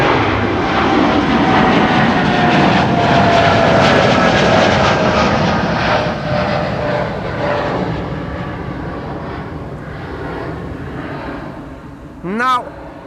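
An Air Canada airliner departs Schiphol bound for Montreal, its loud jet roar sweeping broadly at close range and then slowly fading into the distance, with a brief rising whistle near the end.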